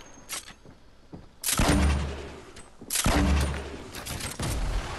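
Burst SMG gunfire in a first-person shooter, two loud clusters of rapid shots with booming low ends, at about 1.5 and 3 seconds. Fainter shots and clicks come before and after.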